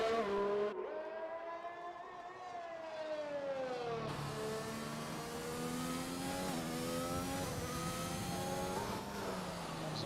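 A Formula 1 car in a racing video game runs a hot lap at Monza, its high engine whine climbing and dropping through gear changes, loud and continuous with no talk.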